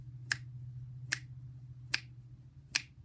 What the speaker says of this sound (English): you guys need to snap four times